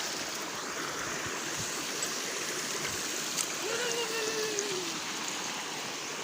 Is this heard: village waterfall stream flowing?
yes